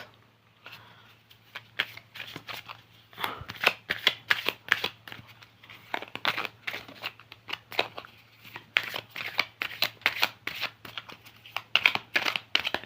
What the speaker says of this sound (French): J'adore mélanger les cartes.